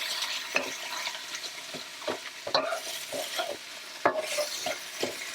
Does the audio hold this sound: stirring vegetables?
yes